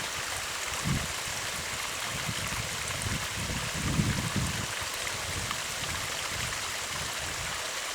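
A small stream in Finland flows steadily nearby, a continuous burbling wash of water with soft irregular splashes and trickles, heard alone without voices.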